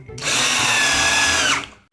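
A power drill whirs steadily for about a second and a half, loud and close, spinning up abruptly and winding down at the end with no talking.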